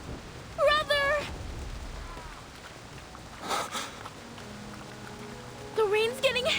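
Heavy rain in the video game Reverse: 1999 rushes as a steady hiss beneath dramatic character voices and sharp vocal cries, with a brief burst of noise midway.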